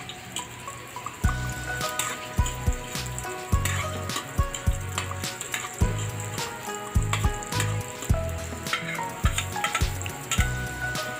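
Garlic sizzles in a hot pan while pork blood stew is being cooked, a steady frying crackle with recurring louder pops and stirring knocks throughout.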